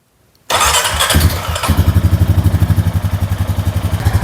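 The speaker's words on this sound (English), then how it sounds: "Now we're going to fire it up. Let it run for a couple seconds." A 2017 Honda Rancher DCT ATV engine cranks and fires up, then settles into a loud, close, steady idle with a rapid rhythmic pulse. No one speaks over it.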